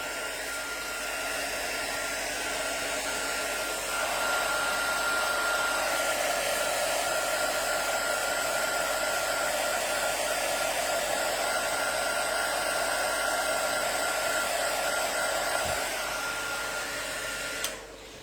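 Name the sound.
heat tool blowing hot air to emboss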